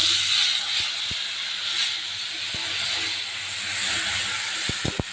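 Onion and mixed spice paste dropped into hot oil in a pan, giving a steady, loud hissing sizzle throughout with a few brief soft knocks near the start and a cluster of them at the end.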